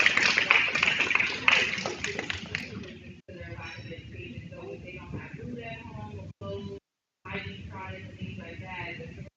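A short burst of clapping from a community meeting audience, a quick run of sharp hand claps lasting a couple of seconds before it fades out and a voice takes over, talking in a quieter room.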